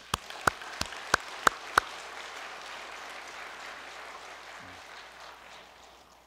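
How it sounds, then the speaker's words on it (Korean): Church congregation applauding in a broad, soft wash of many hands, opened by six sharp, evenly spaced single claps close by, then the crowd applause slowly tapers off. "식구들의 수고를 위해서 다시 한번 큰 격려의 박수를 보내십시다."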